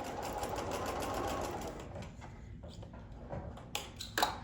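A sewing machine pieces a denim quilt block, whirring in a steady rapid run for about two seconds, then slowing into stops and starts with a few sharp clicks near the end.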